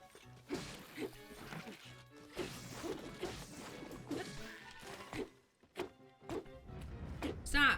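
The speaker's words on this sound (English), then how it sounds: "Stop hitting the tree!" Repeated whacks against a tree in Zelda: Tears of the Kingdom land in an irregular rhythm of sharp thuds, each with a short ringing game-effect tone, fairly close and steady, ending in a louder crash.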